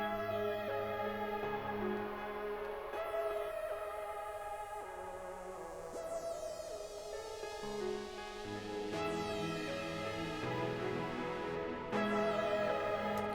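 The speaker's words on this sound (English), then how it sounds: "for the synth arpeg, and it just sounds like this." A bright synth plays a rippling arpeggiated melody, steady and continuous, sitting over sustained lower tones with no voices.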